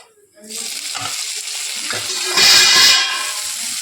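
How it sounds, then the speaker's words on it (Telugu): Sliced okra fries in a pan while a ladle stirs it back and forth, a loud close sizzle that swells partway through, with soft scraping touches and no talking. "అది మాడిపోకుండా గరిటెతో అటు ఇటు తిప్పాలి"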